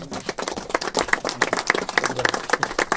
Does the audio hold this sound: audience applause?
yes